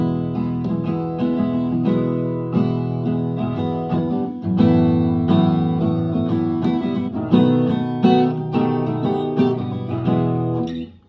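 Electric guitar strumming the three-chord verse of a song in a steady rhythmic pattern, close and clear, with no voices.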